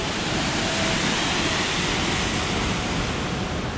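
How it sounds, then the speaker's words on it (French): A roughly 15-metre waterfall at a wild, out-of-the-way spot in France thunders in a dense, unbroken roar of falling water, loud and close, with no voices over it. "voilà la cascade, juste derrière moi"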